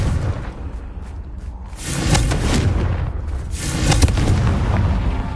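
Confringo blasting curse explosions in the Hogwarts Legacy video game, a series of loud booming blasts with rumbling crackle that swell and repeat over several seconds, without talk.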